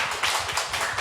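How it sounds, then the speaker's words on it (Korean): Church congregation clapping to welcome newcomers at a Sunday service, a short dense burst of hand claps with a steady, moderately loud texture and no voices over it. "새로 오신 분들에게 큰 박수 또 한 번 더 환영해 주시고"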